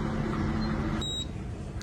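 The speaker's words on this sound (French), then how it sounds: "Après le deuxième bip, l'extraction du café commencera." A brief high electronic beep sounds once, close, from an espresso machine heating water, over a steady low machine hum.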